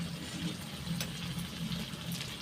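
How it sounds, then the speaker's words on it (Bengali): Water poured a little at a time into a pan of Bihari-style chicken masala curry, a soft continuous splashing pour close by with no talk. "আমি এখানে অল্প করে একটু জল দিয়ে দেব।"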